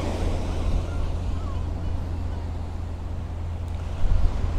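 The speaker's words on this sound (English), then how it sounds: "There's a bit of a wind blowing." Wind blowing steadily across the beach at Fuengirola at sunrise, a constant low rumble buffeting the microphone, with a faint wash of surf beneath it and a slight gust near the end.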